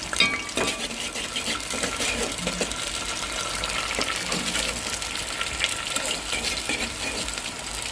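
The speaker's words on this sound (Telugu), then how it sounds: "అలాగే పచ్చిమిరపకాయ కూడా వేసేద్దాం ఒకసారి అలాగే కరివేపాకు ఈ మూడు వేసేసి వేయించేద్దాం" Green chillies and curry leaves frying in hot oil in a pan, a steady close sizzle with scraping stirs and occasional utensil clinks, no voices.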